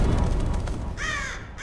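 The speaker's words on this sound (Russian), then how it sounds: "Чертовы птицы!" Crows caw in the Barrow Hill video game, several harsh calls in quick succession arriving late over a low rumbling ambient wind bed, moderately loud and alone without talk.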